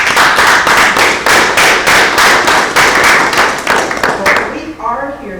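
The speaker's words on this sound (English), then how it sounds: "I want you to give yourselves a round of applause" Applause breaks out from an audience at a mayoral swearing-in ceremony, a dense burst of many hands clapping in an indoor room that carries on for several seconds before fading into a few scattered claps.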